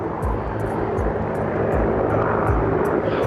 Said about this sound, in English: and now there comes a helicopter.